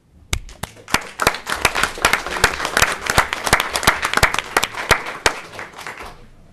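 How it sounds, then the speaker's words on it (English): Audience at a county commissioners' meeting clapping for participants, a burst of sharp, distinct hand claps from a modest group building quickly, holding steady for several seconds, then tapering off to a few last claps. "we're going to clap for them right now"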